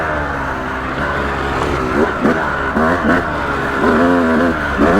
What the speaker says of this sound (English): This is where I like third gear.